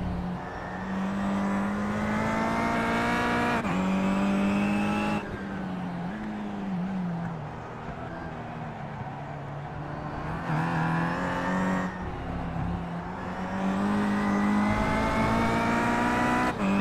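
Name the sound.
Kia touring cars racing, from sim racing game iRacing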